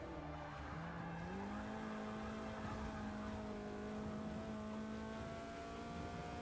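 A Mazda Miata engine in Forza Motorsport 6 holds a steady droning rumble whose pitch shifts as it revs, with faint tire noise, continuous and fairly quiet.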